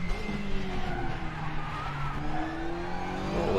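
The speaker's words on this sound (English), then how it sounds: "fully on the brake because this doesn't have ABS and they will lock up" A touring race car in the RaceRoom racing game brakes hard at the Nürburgring GP circuit without ABS, its tires locking up in a sustained squeal over the low engine drone.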